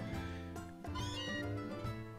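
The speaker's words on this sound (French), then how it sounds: "Ça serait un chat casse-couille, sérieusement, qui miaulerait genre un peu partout pour réveiller tout le monde" Cat meowing in Pokémon Sun and Moon, a string of distinct, fairly close meows with rising and falling pitch, heard alone with no talking over them.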